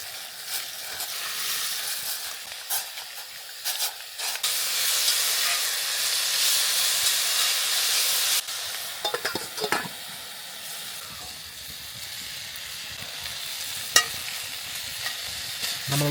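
Chopped tri-tip steak and rice sauté in a pan over a campfire in the snow. A moderate hiss and sizzle rises and falls with occasional stirring scrapes and a sharp clack near the end.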